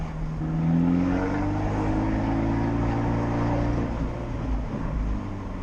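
An Abarth 124 Spider sports car drives in manual mode, its engine note sweeping upward and then dropping as it shifts gear, heard from inside the car as a steady moderate hum.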